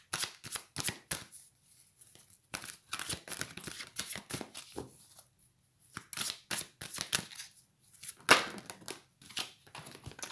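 Tarot cards are shuffled and drawn by hand, with close, crisp riffling and snapping card sounds in irregular rapid bursts separated by brief quiet gaps.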